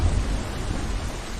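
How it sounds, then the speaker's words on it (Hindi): Heavy evening rain pours steadily while deep thunder rumbles close and loud underneath for the whole short stretch, with no voices. "उसी दिन शाम को तेज बारिश फिर से शुरू हो गई।"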